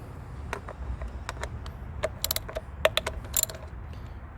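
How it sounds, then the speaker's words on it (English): A 10mm socket wrench loosens a bolt on a Toyota 3.0L V6 engine during spark plug work, heard as scattered quiet ratcheting clicks and metallic ticks, close but faint. "you're going to want to get your 10mm socket"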